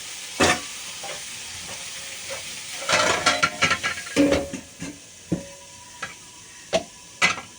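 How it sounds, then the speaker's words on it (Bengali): Snake gourd fries in a pan with soft sizzling under sporadic stirring scrapes and clinks of a utensil, close by and without talk. "ভাজা ভাজা করে চিচিঙ্গাটা দিয়ে দিয়েছি এবার লবণ দিয়ে দেবো"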